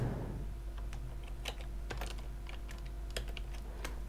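Continuous computer keyboard typing while code is written, with a steady close clatter of keystrokes and a few sharper taps standing out over a low constant hum, and no voices.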